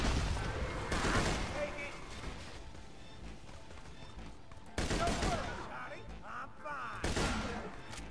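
Gunfire in Borderlands 2, rapid bursts of shots with sharp crashes at the start, middle and end, loud and dense throughout.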